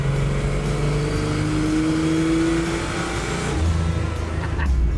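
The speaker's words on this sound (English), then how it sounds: "it still sounds and smells like a farm truck" A turbocharged Ford 300 flatbed truck engine roars steadily and loudly, its pitch climbing and dropping as it revs while driving, with a brief shift near the end.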